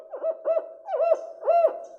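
Cinereous owl calling in Guatemala, a series of four rhythmic hooting notes close and clear with no other sounds, resembling a barred owl's call.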